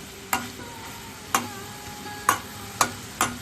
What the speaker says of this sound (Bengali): আমি ঢাকাটা খুললাম আর হালকা হাতে নাড়াচাড়া করে দিচ্ছি